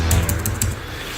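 Arrow keys tapped on an Apple computer keyboard, several quick close clicks in a short burst over a steady low hum.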